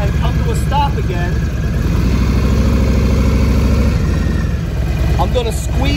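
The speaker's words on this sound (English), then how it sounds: "now I'm gonna have to start the bike up so that you can see how this functions" A Harley motorcycle engine starts and settles into a loud, steady, throbbing idle close by, a continuous rumble that holds throughout.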